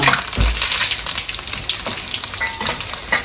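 Dried buttermilk chilies fry in hot oil with a steady, close crackling sizzle, broken by a few stirring scrapes and bursts of spitting.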